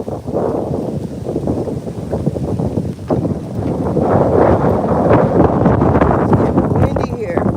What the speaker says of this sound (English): It's getting windy here.